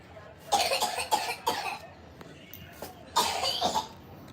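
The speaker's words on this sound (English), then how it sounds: "Son's got a little bit of a cough." A young boy coughs in a small indoor room, giving several short, dry bursts in two clusters with brief pauses between, fairly close but moderate in volume.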